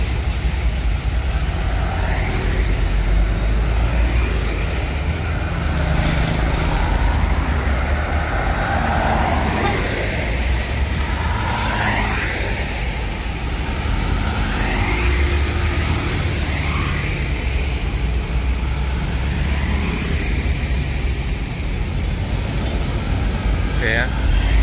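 A bus rumbles and manoeuvres slowly to pull into a spot crowded with other large vehicles, amid a constant wash of road traffic noise, while people talk throughout.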